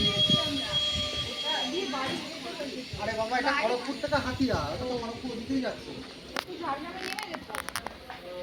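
A train passing by on a sightseeing outing in Purulia, its rumble and hissing rail noise rising under people's talk, with some sharp metallic squeals toward the end.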